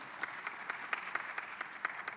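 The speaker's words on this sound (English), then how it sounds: "Let us give a round of applause." Faint, sparse clapping from a small audience at an urban youth conference, a few scattered hand claps in an uneven rhythm at a distance.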